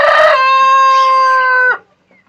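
A Barred Plymouth Rock rooster crows once, loud and close, in a long sustained call that cuts off sharply, heard alone.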